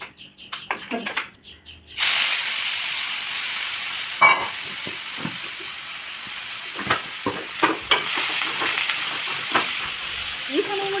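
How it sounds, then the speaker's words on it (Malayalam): Crushed ginger, garlic, shallots and curry leaves hit a hot pan and fry with a sudden loud sizzle that continues steadily, with stirring clatter; a voice talks briefly before the sizzle starts. "നമ്മൾ ചട്ടി വെച്ചിട്ട് ഇഞ്ചി വെളുത്തുള്ളി ചെറുള്ളി കൂടെ ചതച്ചതും വേപ്പിലും കൂടെ അതൊന്ന് മൂത്ത് വരുമ്പോൾ"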